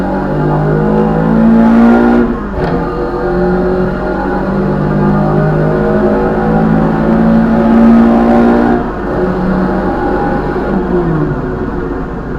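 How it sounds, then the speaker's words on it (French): A Renault Clio Williams engine revs and accelerates hard under load, loud and close, climbing through the gears in repeated rising pulls with brief dips at each shift, with no talking. "on va se mettre un petit coup d'accélérateur pour voir ce que ça donne en accélération"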